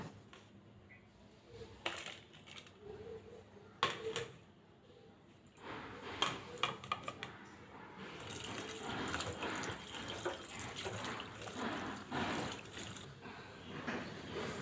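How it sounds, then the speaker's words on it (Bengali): Salted bitter gourds are rinsed under running water, a moderate splashing and trickling that grows busier in the second half, with scattered knocks and handling sounds and no talk. "এখন করলাগুলো ধুয়ে নিই"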